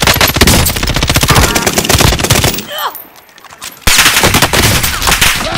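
Rapid automatic gunfire in Warzone on the Fortune's Keep map, a dense burst of close shots that cuts out for about a second before heavy firing resumes, loud and continuous.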